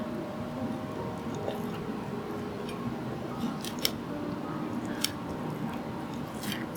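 A boning knife cuts into bone-in chicken thighs for karahi, making a steady wet, squishy slicing sound with a few sharp crisp snips as the blade scrapes against bone.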